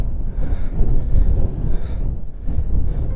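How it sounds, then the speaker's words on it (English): Strong wind roars across a mountain ridge near Helvellyn and Catstye Cam in the Lake District, buffeting the microphone in a loud, steady low rumble with gusts rising and easing throughout. "Very, very windy."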